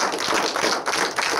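Applause from the audience at a cine-concert in a cinema in Sainte-Livrade, a dense patter of many hands clapping steadily and fairly close.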